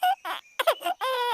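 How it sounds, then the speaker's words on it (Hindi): A baby's high, wavering cries in short bursts, rising and falling, loud and close with brief gaps between wails. "मगर वो बच्चा रो ही जा रहा था।"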